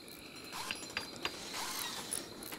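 Clanking, creaking construction machinery from a strategy video game base, with a few brief knocks and ratchety clicks over a steady low mechanical bed, moderately faint and without talk.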